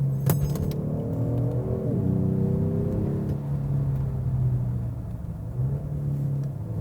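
A 2020 Genesis G70 3.3T AWD drives in sport mode, its engine note rising in a steady rev then settling into a low, continuous cabin drone with a brief second climb near the end.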